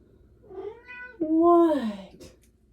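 A pet cat meows loudly and close by, one drawn-out call with a rising then falling pitch after a shorter softer one, while quiet room noise sits underneath.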